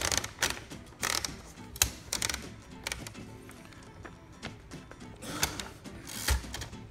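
Paper being fed into a 1931 Royal 10 typewriter: a run of close, uneven mechanical clicks, ratcheting and tapping as the platen turns and the sheet advances, with a few louder knocks.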